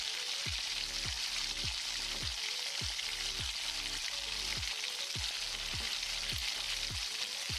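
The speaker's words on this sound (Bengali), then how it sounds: "এবার এই তেলের মধ্যেই দিয়ে দিচ্ছি আধা কাপ পরিমাণ পেঁয়াজ কুচি" Chopped onion fries in hot oil, a constant close sizzle with regular stirring strokes that scrape through it about once a second, with no voices.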